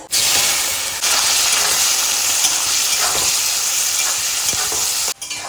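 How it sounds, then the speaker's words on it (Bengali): Chopped onions fry in hot oil with spices, giving a loud, continuous sizzle and hiss with stirring scrapes throughout, all close and without any voices. "এটি পেঁয়াজ লাল লাল করে ভাজা হয়ে গেছে"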